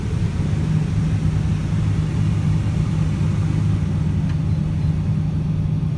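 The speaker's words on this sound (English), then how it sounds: "That's full idle right there. It's a pretty quiet machine." A Case CX330 excavator idling outdoors on a warm day, a steady low, quiet engine hum with an even rumble throughout and no other sounds.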